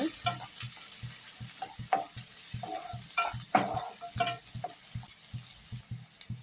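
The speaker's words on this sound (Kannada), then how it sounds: "ಈರುಳ್ಳಿನ ಸ್ವಲ್ಪ ಚೆನ್ನಾಗಿ ಫ್ರೈ ಮಾಡ್ಕೊಳ್ಳೋಣ" Onions fry in a pan with a hissing sizzle throughout, punctuated by frequent close scrapes and taps as they are stirred in a busy, uneven rhythm, moderately loud, with no voices.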